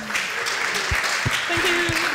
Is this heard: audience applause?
yes